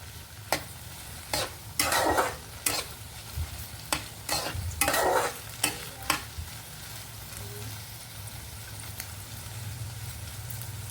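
Sliced okra (bendakaya) frying in a pan with spice powder while being stirred, a steady close sizzle broken by repeated scraping stir strokes over the first six seconds, then settling into a continuous low crackle.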